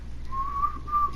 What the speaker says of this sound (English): No whistling.